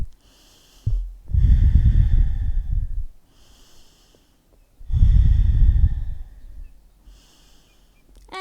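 Deep breathing during a yoga pose for rock climbers: two long, loud, close breaths with a breathy rush, each followed by quieter pauses.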